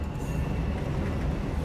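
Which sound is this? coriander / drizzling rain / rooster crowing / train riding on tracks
train riding on tracks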